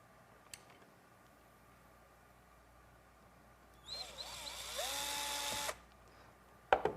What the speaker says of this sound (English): the drill bit cuts into this reel seat pretty easily